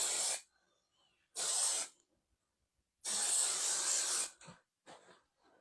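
Several loud bursts of spray paint can hissing, each about half a second to over a second long, separated by brief silences.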